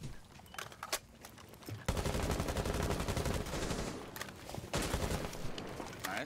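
Bursts of rapid gunfire in a first-person shooter round over a defused bomb, loud and dense in two long stretches with brief lulls, sharp close shots near the start.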